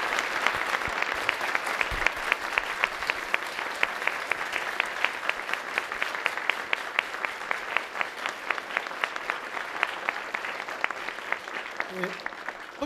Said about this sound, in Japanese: 温かい拍手で感謝の意を表したいと思います。